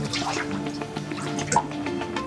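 Water pours steadily into a basement flooded after a sewage pipe burst, with continuous splashing, gurgling and dripping close by and no talk over it.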